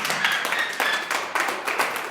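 A church congregation claps in a quick, irregular burst of handclaps lasting a couple of seconds, close and fairly loud, with no voices over it.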